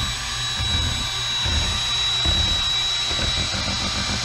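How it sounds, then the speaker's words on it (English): A paddle mixer mixing epoxy resin, giving a loud, steady whirring drone with a constant high whine and low churning pulses that hold evenly throughout. "I'm using a paddle mixer for this"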